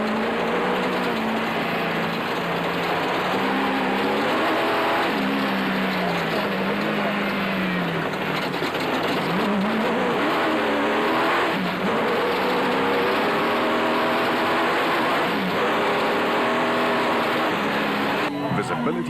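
Toyota Hilux race trucks in an off-road desert race, engines droning and revving continuously and loud through the whole stretch, with pitch rising and falling as trucks accelerate, under a commentator's voice.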